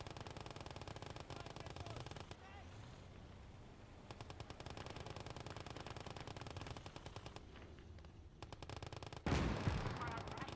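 Sustained machine-gun fire in the World War II game Gates of Hell: Ostfront, rapid bursts rattling almost nonstop for about nine seconds, then ending in a loud, heavy explosion or cannon blast.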